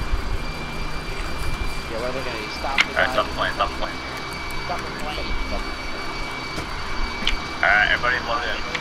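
Steady aircraft engine drone from a plane in the military video game ArmA 3, holding at a constant level beneath several people talking over one another.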